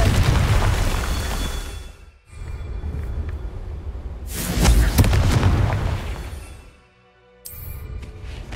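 Confringo fire spell explosions in the PS5 game Hogwarts Legacy: loud booming blasts with rumbling tails, one swelling burst in the middle, a short lull, then another blast rising at the end.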